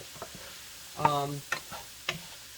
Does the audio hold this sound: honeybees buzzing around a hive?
no